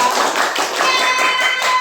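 A classroom of pupils claps a patterned rhythmic chant together, loud, close and continuous for a couple of seconds.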